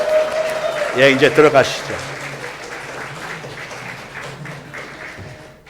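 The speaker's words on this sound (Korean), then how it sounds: "다시 한번 열렬하게 박수 축하해 주시기 바랍니다" Korean church congregation applauding at an Easter service, dense clapping that swells and then slowly fades beneath a man's brief spoken remark.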